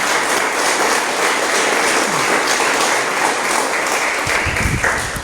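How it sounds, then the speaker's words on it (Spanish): Church congregation applauding during a Spanish-language sermon, a sustained loud round of clapping that fades near the end as a low thump and the pastor's voice return. "Denle un aplauso al Señor."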